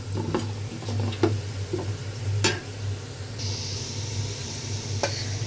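Beef frying in mustard oil for tehari, a steady sizzle with scattered clicks and scrapes of stirring close by, plus a low hum underneath.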